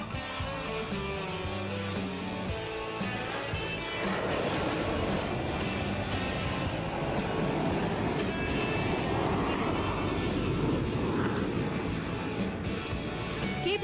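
A military aircraft flies an inverted, max-rate turning routine at an Air Force Day display, a loud continuous roar that swells and rushes along under crowd and wind noise.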